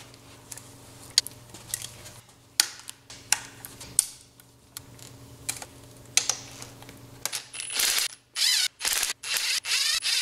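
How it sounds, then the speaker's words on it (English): A ratchet undoes the six 10mm bolts holding the supercharger on a Jaguar F-Type X152, giving sparse close clicks and short turning bursts that grow into a rapid run of loud ratcheting near the end. "Now we're gonna undo the 6 10mm bolts holding the supercharger on"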